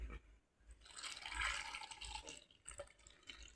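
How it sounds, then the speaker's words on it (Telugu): Water poured into a container of Indian gooseberries (amla) mixed with chili powder, salt and turmeric, a steady splashing fill that swells and thins over a few seconds, close and moderately loud with no talking. "ఉసిరికాయలు మునిగేటంత వరకు కూడా వాటర్ పోయాలి"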